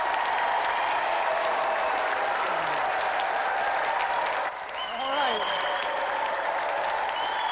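Audience applause for a band on a game show, a steady, dense clapping that runs the whole time, with a host's voice briefly over it and a bright electronic whistle sweep near the end.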